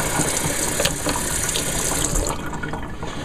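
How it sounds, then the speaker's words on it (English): A hummingbird feeder is rinsed under running water, giving a steady, close, splashing hiss throughout with no voices. "little rinse here"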